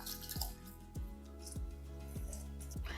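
Pot of water coming to a boil for cooking rice, giving repeated bubbling plops and drips at a steady rhythm, close and moderately loud over a constant low rumble.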